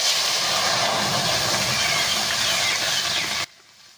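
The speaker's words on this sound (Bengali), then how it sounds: "কড়াইটা গরম হয়েছে, রসটা কড়ার মধ্যে আমি দিয়ে দিলাম" Jackfruit juice hits a hot wok and hisses in a loud, dense, continuous sizzle that cuts off abruptly just before the end.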